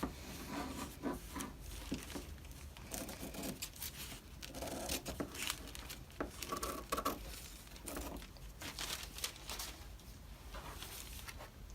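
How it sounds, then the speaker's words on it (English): Scissors cut a new hem shape into a paper sewing pattern piece, producing quiet crisp snips and papery rustling in an irregular rhythm, close but faint, with no talking. "So I'll take my scissors again and cut out the new hem shape on the front."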